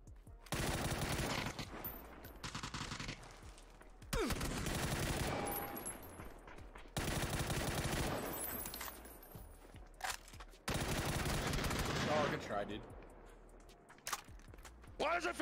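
Rapid automatic gunfire from guns in a video game, firing in long dense bursts with brief gaps, loud and close.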